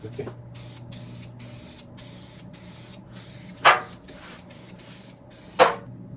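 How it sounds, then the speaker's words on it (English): Aerosol spray paint can misting onto the bonnet of a 1966 Triumph GT6, in a run of short hissing bursts with brief gaps, close and steady, with a couple of sharp clicks along the way. "This edge I'm not gonna spray too much"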